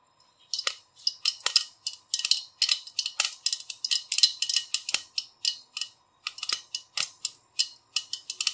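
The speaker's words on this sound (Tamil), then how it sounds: "இப்போ ஒரு 1/4 டீஸ்பூன் கடுகு தாளிக்கிறேன்." Irregular rapid popping and crackling of a quarter teaspoon of mustard seeds spluttering in hot oil, sharp bursts coming in quick clusters close by.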